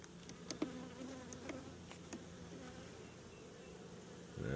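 Honeybees lift off a hive frame during a mite check, giving a faint, thin buzzing with a few brief louder passes close by in a quiet outdoor apiary.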